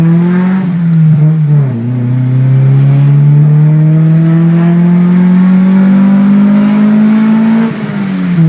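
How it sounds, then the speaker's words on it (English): A Honda car engine revs hard and close, its pitch dipping briefly before climbing steadily in one long, loud pull as it hits VTEC, then easing off near the end. "This next clip was my godbrother Sam hitting VTEC in my car for the first time."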